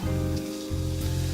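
Cut pieces of salmon sizzle steadily in hot oil in a pan, a close, continuous crackling fry with a brief dip as the pieces go in.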